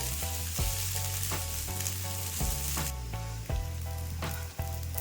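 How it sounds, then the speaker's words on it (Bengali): Rice for basanti pulao sizzles steadily in a pan while being stirred, with repeated scraping strokes every half second or so, close and alone. "ভাজার সময় চালটা কিন্তু অনবরত নাড়তে থাকবেন নাহলে লেগে যাবে"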